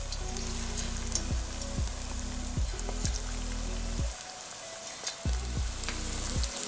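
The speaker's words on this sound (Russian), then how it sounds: "теперь вот так вот по одной туда забрасываем" Chicken breast pieces dropped one at a time into hot oil for a Chinese-style dish, sizzling loudly and steadily with repeated bursts as each piece goes in, no talking.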